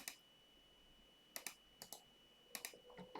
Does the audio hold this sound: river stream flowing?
no